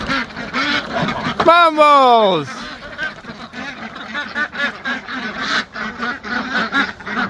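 Ducks in the top of a homestead barn quack and honk, with a loud, near, drawn-out call around the middle and softer quacks scattered through the rest, mixed with a person talking.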